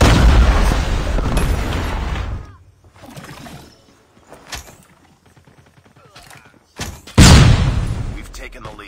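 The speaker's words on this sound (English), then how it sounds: "Predator missile awaiting orders. Hardpoint is ours. Friendly predator missile down." Predator missile strikes in a Call of Duty match, with heavy booming explosions at the start and again near the end, loud and close, separated by quieter scattered game sounds and announcer voice lines.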